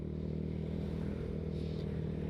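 A Yamaha Mio Sporty scooter with an aftermarket VND exhaust idling, a steady low rumbling drone, fairly quiet and close, with no voices.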